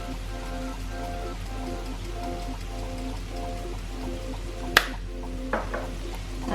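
Vegetables with oregano and thyme are stirred in a hot pan for fried rice, giving a steady soft sizzle with faint scraping and a couple of sharp utensil clinks near the end.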